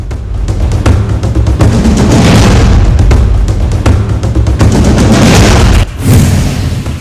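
Heavy shelling in Mankot and Krishna Ghati along the Line of Control, a loud, continuous barrage of booming blasts and rapid gunfire that runs almost without a break, with a short drop near the end.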